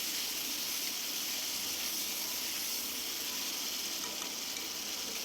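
Onion and tomato fry in a pan with a steady, close sizzle and light crackle that holds at an even level throughout, with no voices.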